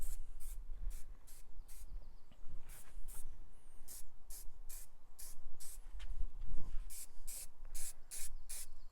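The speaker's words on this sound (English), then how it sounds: "going to be spraying from about 15 to 20 centimetres away, nice and light" Aerosol spray paint is applied to carbon fiber in light passes from about 15 to 20 centimetres away, a series of short, evenly spaced hissing bursts close by.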